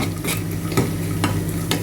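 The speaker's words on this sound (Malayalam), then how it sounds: "ഇപ്പോൾ ഇത് രണ്ടും നമുക്ക് നെയ്യിലൊന്ന് വറുത്തെടുക്കാം." Raisins fry in ghee under a steady close hiss, with a few sharp scraping stirs of a spoon against the pan cutting through at short intervals.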